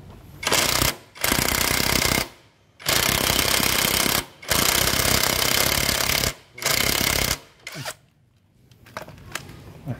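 A power tool tightens a bolt on the rear shock of a Yamaha Mio 125i motorcycle, making loud, rapid rattling bursts of one to two seconds with short pauses between them, and no talk.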